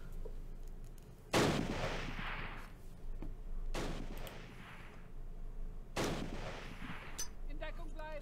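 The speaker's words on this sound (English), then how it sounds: "Still throwing grenades." Heavy explosions and gunfire crack through a WWII battle in a close-combat video game, with Polish paratroopers facing German SS. Three big grenade-style blasts land a few seconds apart, each trailing a long rumble, over steady background firing.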